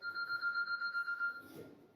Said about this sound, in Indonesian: Mohon maaf, saya matikan telepon dulu.